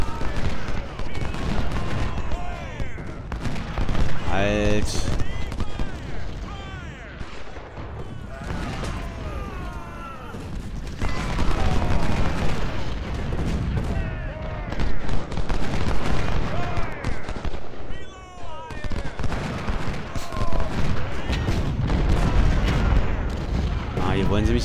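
Cannon and rifle fire from the Ultimate General: Civil War game's Battle of Stones River, a loud, continuous din of rolling booms and crackling volleys, with a voice calling out briefly.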